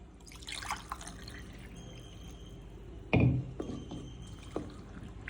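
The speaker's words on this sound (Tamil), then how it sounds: "புளிச்ச தண்ணி ஒரு டம்ளர் ஊற்றிக்கலாம்" Sour water is poured into finger millet flour with one brief splash, followed by a few soft drips and light clinks in a quiet room.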